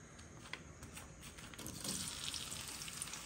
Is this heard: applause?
no